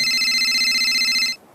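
A mobile phone ringtone rings loudly and steadily for over a second as a repeating bright electronic tone, then stops abruptly.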